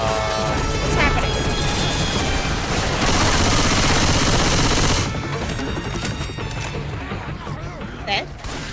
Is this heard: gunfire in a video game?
yes